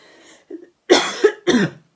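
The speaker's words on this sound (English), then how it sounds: "that silly cough still hasn't gone" A few sharp, close coughs in quick succession, preceded by a faint breath, each burst rough and throaty.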